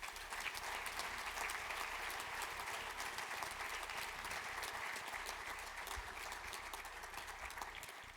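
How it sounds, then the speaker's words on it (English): An audience at a youth sports volunteer recognition event gives a sustained round of applause, dense steady clapping that carries on at an even level with little else over it. "let's give them a round of applause."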